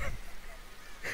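A honking, goose-like bird call in the Tomb Raider: Definitive Edition video game, two short calls at the start and end over a low ambient background, with no talk.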